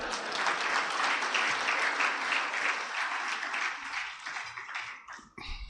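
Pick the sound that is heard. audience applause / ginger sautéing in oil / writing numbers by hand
audience applause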